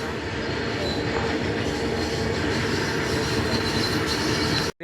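A very long train rolls steadily past on railway tracks close by, a continuous loud rumble and clatter of wheels that holds for the whole stretch before cutting off abruptly at the end.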